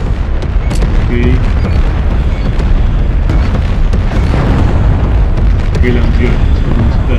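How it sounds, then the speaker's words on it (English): Artillery strike in a video game, booming blasts over a constant roar of battle noise, loud and dense throughout, with a player speaking briefly over it. "Artillery strike on standby. Artillery strike gone."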